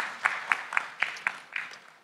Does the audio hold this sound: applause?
yes